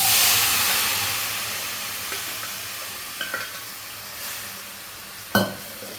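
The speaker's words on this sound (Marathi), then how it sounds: "थोडा हिंग टाकू आणि हा घेवडा टाकू" Asafoetida and beans hit a hot pan and sizzle loudly at first, the frying hiss slowly easing while a spoon clinks and stirs now and then.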